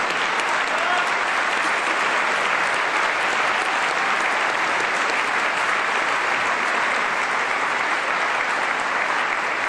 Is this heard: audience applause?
yes